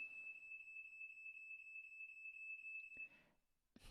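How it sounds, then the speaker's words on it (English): A fire alarm set off by cooking in a home kitchen sounds as a rapid train of high, piercing beeps that repeats steadily and then abruptly stops, heard faintly in the distance. "there is a fire alarm"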